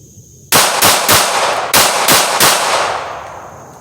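A S&W Bodyguard 380 pistol fires six loud, sharp shots in quick succession, each crack followed by a short ringing decay, with echo trailing after the last.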